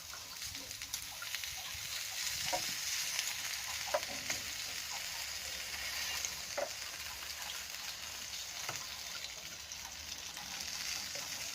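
Jerk chicken juices sizzle steadily on a grill in a constant close hiss with occasional soft pops and crackles, and no voices.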